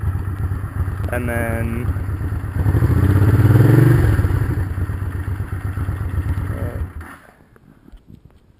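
A 1983 Honda Shadow VT500 motorcycle engine runs close by with a steady rumble, swelling briefly as it is revved, then cutting off near the end; a voice speaks over it.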